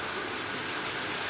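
A Hornby R3440 "Cock O the North" model locomotive hauls royal carriages through a track point. A dense, close rattle of small wheels on model rails runs steadily through the short moment.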